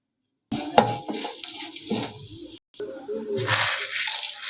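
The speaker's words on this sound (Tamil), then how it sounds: "உளுத்தம்பருப்பு சேர்த்துக்கலாம்" Urad dal dropped into a pan for lemon rice and stirred, with a spoon scraping and rattling against the metal over a light sizzle in short, uneven strokes.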